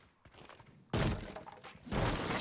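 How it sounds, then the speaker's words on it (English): The wine cellar wall being breached by an explosion in Rainbow Six Siege: a sudden loud blast with crumbling debris, then a second heavy burst shortly after, both close and dominant. "that was the big wine cellar wall getting opened up there"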